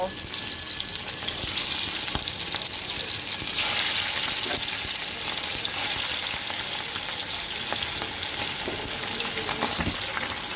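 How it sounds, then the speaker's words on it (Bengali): Hilsa fish fry in hot oil in a wok, giving a steady, loud, crackling sizzle with scattered pops and occasional louder bursts, heard close up with no talking. "মাছটা ভাজার জন্য আমি কড়াইতে তেল গরম করতে বসিয়ে দিয়েছিলাম এখন আমি মাছগুলো ভেজে নেব"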